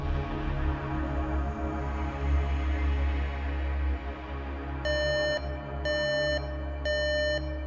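A repeating electronic alarm sounds in a ship's bunk quarters during a tabletop role-play session, three short bursts of bright beeping over a low droning hum.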